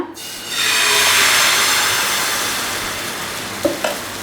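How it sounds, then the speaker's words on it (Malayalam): Kallappam batter hits a hot non-stick pan with a sudden loud sizzle that hisses steadily and then slowly fades, with a couple of faint clinks near the end. "ഞാൻ അതിലോട്ട് ഒരു കയ്യിൽ മാവ് ഒഴിച്ചു കൊടുക്കുകയാണ്"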